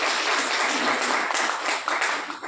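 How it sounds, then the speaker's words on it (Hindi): Audience applause at a teachers' seminar: steady, dense clapping from a crowd that fills the room evenly and keeps going without a break. "उनके मार्गदर्शन शिक्षक के रूप में जोशी जी के लिए एक बार ताली जरूर होनी चाहिए"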